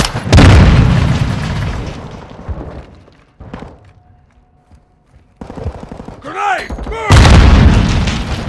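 Flashbang grenade detonating in Call of Duty Modern Warfare II, a sudden loud blast followed by a muffled ringing lull, then another loud burst of noise near the end.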